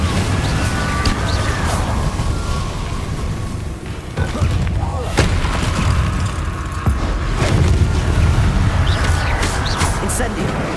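Repeated fiery Confringo blasting-spell explosions from Hogwarts Legacy boom one after another, loud and dense, with a constant rumbling roar and crackle that never lets up.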